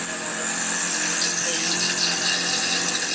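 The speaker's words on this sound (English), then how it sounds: "A couple of holes drilled there, the smaller holes." A power drill bores holes in steel exhaust flanges, giving a harsh, steady high-pitched grinding whine that stays loud and close without pause for a few seconds.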